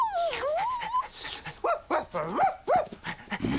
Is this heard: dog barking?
yes